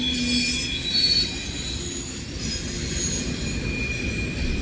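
A Norfolk Southern train rolls through Elkhart with loud, sustained high-pitched wheel squeal over a steady rumble of rail cars, close and continuous throughout.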